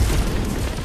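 Missiles blowing up in the VR game Swarm 2, a short dense burst of loud, booming low-end rumble that fills the whole moment without a break.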